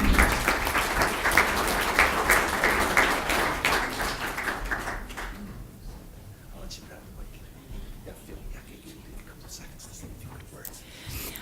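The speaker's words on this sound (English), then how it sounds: "a round of applause for a really creative group" Council chamber audience applauding a creative group, dense clapping for about five seconds that fades into quiet room noise with faint rustles and taps.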